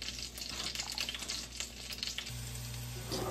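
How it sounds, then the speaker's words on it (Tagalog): Onions sizzle as they drop into a hot frying pan while spaghetti is cooked Filipino style, a steady close crackle of frying with a few soft stirring clatters and a low hum underneath. "pinaglalagay na po ni Bibi sa kawali yung onions"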